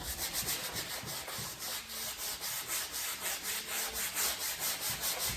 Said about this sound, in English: you don't paint this on, you gotta scrub this in there